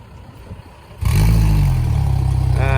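Suzuki outboard engines start up at once, a loud steady low-pitched motor drone that takes over from quieter background noise and keeps running close by.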